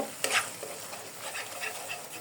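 Ginger garlic paste fries in a pan with a continuous close sizzle and soft stirring scrapes, steady and fairly quiet throughout.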